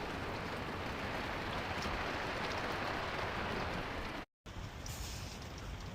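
Steady rain drumming on a roof, heard from inside an attic beneath Tesla solar panels during a search for a leak, a continuous dense patter with a brief dropout near the end.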